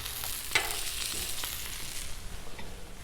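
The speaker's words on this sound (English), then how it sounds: "So let's go ahead and put some eggs down." Eggs fry in butter and oil on a Blackstone griddle, giving a close, steady sizzling hiss with a few sharp clicks and taps from utensils on the flat-top.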